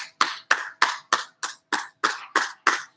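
A few people clap in slow, evenly spaced single claps, about three per second, crisp and close with silence between each, for a baseball player during a live kids' PE class.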